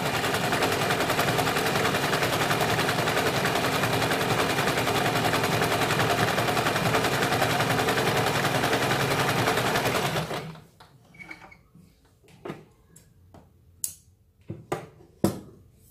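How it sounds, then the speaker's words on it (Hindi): A sewing machine runs a double seam along a katori blouse, whirring steadily and loudly for about ten seconds before stopping. Sparse clicks and taps of fabric handling follow. "यहाँ पे हमें इसके ऊपर डबल सिलाई लगानी है।"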